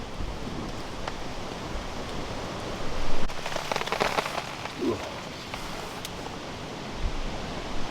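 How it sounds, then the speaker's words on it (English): Steady rain patters and hisses in woodland throughout, with a slightly louder spell of drops in the middle. "Raining again."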